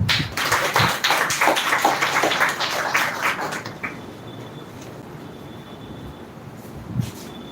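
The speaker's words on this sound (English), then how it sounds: "So clap for him." An indoor audience at a spoken-English semi-final event claps for their mentor. Dense, steady applause fills the room for about four seconds, then dies away, leaving a quiet room with faint background noise.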